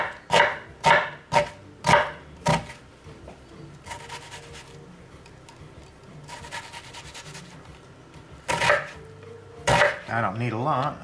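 Onion being chopped for an omelet on a cutting board, a run of sharp, evenly spaced knife chops near at hand, then a quieter stretch of rustling and more scattered chops.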